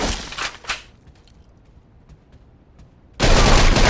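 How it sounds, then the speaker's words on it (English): Enemy gunfire in Mafia 2, with rapid overlapping shots at the start, a quiet lull, then a sustained loud roar of automatic fire filling the last second, close and dense. "They're shooting from up top!"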